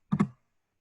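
A few quick keystrokes on a computer keyboard as a web address is typed into a browser, two close clicks within a fraction of a second, then quiet.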